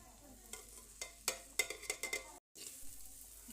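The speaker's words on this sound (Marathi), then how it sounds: "त्यानंतर त्याला परतून घ्यायचं। एक 5-10 मिनिट तर ह्याला परतूनच घ्यायचं आहे आपल्याला।" Thecha, a chilli relish, is sautéed and stirred in a pan, producing quiet sizzling with a quick run of spatula scrapes and taps, faint and close, then a brief cut to silence.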